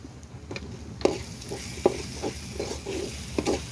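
Turmeric, chili and spice powder stirred and fried for egg curry, soft sizzling under a series of spoon scrapes and clinks against the pan at an uneven rhythm, close and moderately loud.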